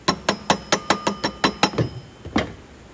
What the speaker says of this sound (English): Mallet, not a hammer.